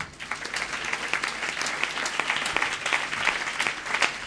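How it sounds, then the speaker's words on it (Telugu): A church congregation at Sunday worship bursts into loud, sustained clapping, many hands crackling together in a dense, close burst that keeps going throughout. "నిజంగా యేసుక్రీస్తే మీ ధైర్యం అయితే ఒకసారి గట్టిగా చప్పట్లు కొట్టండి."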